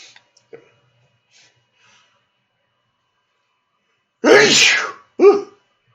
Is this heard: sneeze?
yes